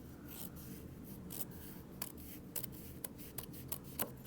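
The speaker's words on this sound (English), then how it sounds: "And then it says to trim the excess" Scissors trimming excess fabric on a small sewn project, a series of quiet, crisp snips at uneven intervals over a low background hiss, close and faint.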